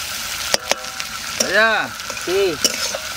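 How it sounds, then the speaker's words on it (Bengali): Village-style desi chicken fries with green chilies in a pan. A loud, steady sizzle carries occasional clinks of stirring, and two short tonal sounds like a voice rise briefly over the frying. "এবার কাঁচা লঙ্কাটা এর মধ্যে দিয়ে দেবো, একসঙ্গে ভাজা করবো"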